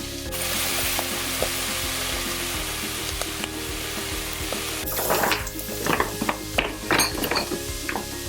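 Butter sizzling and spattering in a cooking pot for Hungarian goulash, a steady frying hiss that grows busier halfway through with scraping and clicking of a utensil, close and moderately loud.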